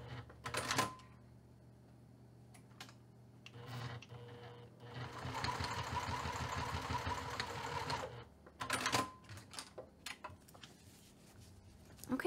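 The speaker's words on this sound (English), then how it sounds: "we're going to secure the other end by stitching 1/8 of an inch away from the edge of the fabric" Sewing machine stitching fabric for a ribbon bag strap, one sustained whirring run of several seconds flanked by quiet clicks and handling noises of the fabric.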